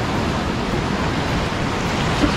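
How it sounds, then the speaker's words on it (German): Ocean waves break on an Australian shore in a loud, continuous roar of rushing surf and spray that fills the whole stretch without a pause. No one speaks over it. "Oh, Welle."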